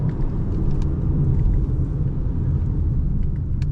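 A 2024 Honda Amaze facelift with a CVT gearbox holds a steady, low engine rumble from inside the cabin while being driven, even and continuous throughout.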